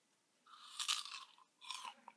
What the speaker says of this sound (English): I'm eating a peach. It's really good. And it's really crunchy.